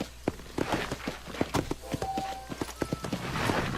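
Horse hooves clip-clop at a walking pace in the Red Dead Redemption video game, a steady run of distinct thuds over faint ambient background, close and moderately loud.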